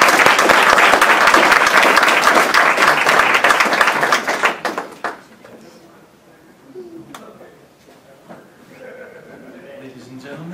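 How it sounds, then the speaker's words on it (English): A crowd applauds loudly and steadily for several seconds, then the clapping fades out and a voice begins speaking over quiet room noise. "To introduce my Polvani, give him a warm round of applause."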